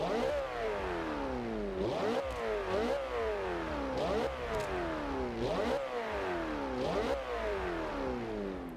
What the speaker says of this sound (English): we'll let you hear this engine because it's another belter of a V8.